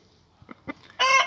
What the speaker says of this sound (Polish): dwa koguty, biały i rudy